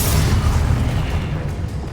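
Spell explosion from the Confringo curse in the video game Hogwarts Legacy, a loud, continuous booming blast with heavy low rumble that holds steady for two seconds with no pause.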